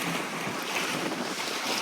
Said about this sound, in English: And yeah, the waves have calmed down.